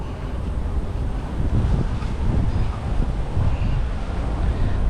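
Steady, broad outdoor wind rushing and buffeting the microphone at Clarke Quay, Singapore, a continuous low rumble that holds level throughout without any voices.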